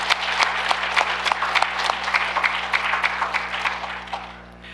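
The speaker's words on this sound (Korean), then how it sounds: "한번 박수 한번 쳐주시면 좋겠습니다" A church congregation applauds the choir after a Christmas Day cantata, with irregular clapping over a steady low hum that fades out toward the end.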